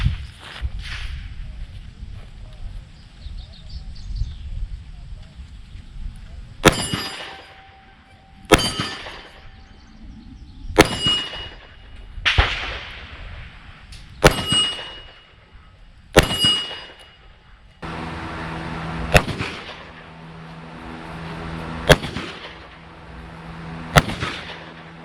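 Shots from a small .357 Magnum revolver fired at a steel target outdoors: sharp reports, each followed by a ringing metallic clang. Around ten shots come in irregular spacing, loud and close, with quieter shuffling between them.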